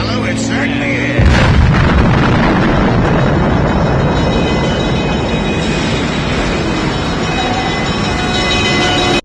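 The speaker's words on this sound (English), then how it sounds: "In the background, a real B-25 bomber" A real B-25 bomber rumbles through a film scene, its engine roar loud and sustained after a sudden swell, droning steadily throughout with a booming, heavy texture.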